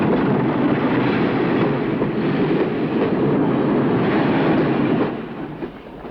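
A British steam locomotive, the LNER K1 number 2005, runs past with a loud, continuous rumble and rattle of wheels and wagons, easing off slightly near the end.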